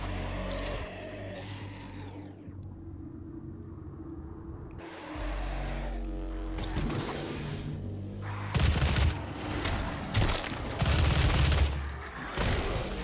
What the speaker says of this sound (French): Cette arme là par contre elle fait très mal hein.